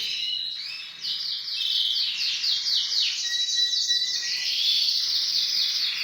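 Caged birds kept by a breeder chirping: a dense, continuous chorus of high, rapid trills and tweets, close and loud, with no talking.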